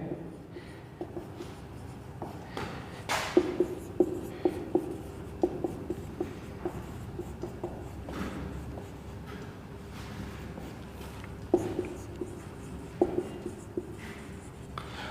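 Pen scratching on paper while a formal letter to a principal is handwritten, soft intermittent strokes and taps close by, with quiet talk in the background.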